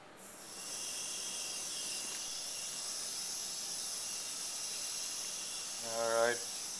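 Compressed air blows steadily across soil samples in a wind erosion demonstration, a constant loud hiss holding for several seconds, with a brief rising whoosh near the end.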